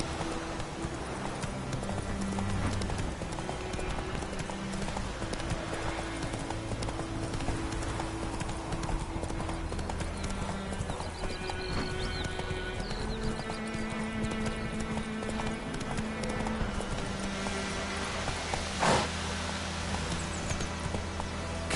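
Horse hooves clip-clop steadily through the Witcher 3 game world, a continuous trotting rhythm over a dense ambient backdrop, with a brief louder accent near the end.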